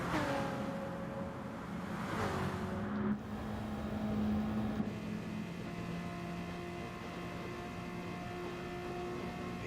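BMW and Audi race cars in a racing video game at Sardegna and Tokyo, a continuous engine drone with shifting pitch and a brief gearshift dip, steady and moderately loud, no talk.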